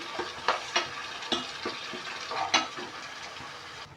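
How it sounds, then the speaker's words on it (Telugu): Blended tomato frying in oil for a mushroom masala curry, a soft steady sizzle broken by a handful of sharp scraping stirs of the spoon against the pan, close and fairly quiet. "మిక్స్ చేసుకున్న టమాటా ఇదంతా ఆయిల్లో మంచిగా ఫ్రై కావాలి"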